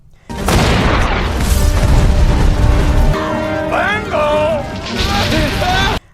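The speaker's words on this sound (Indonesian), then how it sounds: "Mereka menembakkan meriam agar api lebih cepat membesar." Heavy booming blasts, like cannon fire, roll in after a brief pause and continue loudly alongside a dense, noisy background with shifting tones.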